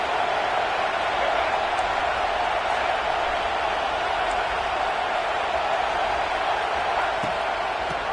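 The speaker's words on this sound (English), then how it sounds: "Man, this crowd really affecting the football game." A home crowd roars at a football game, a dense, steady wall of cheering and noise that holds at one level throughout, with no single voice standing out.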